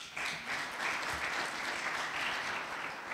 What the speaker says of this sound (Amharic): ማጨብጨብ አለባችሁ